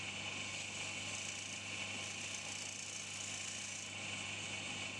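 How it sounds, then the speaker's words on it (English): A running lathe hums steadily with a broad, hissing rasp of sandpaper against a spinning workpiece for a print-maker's engraving tool, close and continuous without pause. "I then give this side a sand while it's still held conveniently in the lathe."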